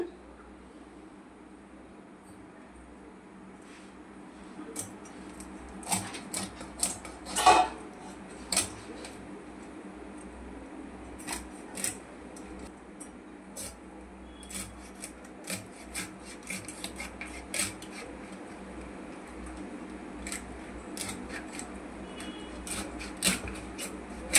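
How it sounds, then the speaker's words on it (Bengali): A knife cuts through a fresh, already-scaled fish, giving scattered rasping scrapes and sharp taps against a board, close and fairly quiet, in irregular bursts with short pauses. "এখন আমি মাছটা কেটে নিচ্ছি, আঁশ ছাড়ানো হয়ে গেছে।"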